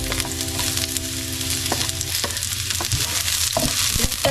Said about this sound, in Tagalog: So we're going to saute